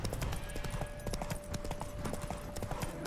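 Roach, Geralt's horse in The Witcher 3, moves in quick clip-clop hoofbeats as it spooks, a steady rapid patter with a faint whinny under low ambient hum.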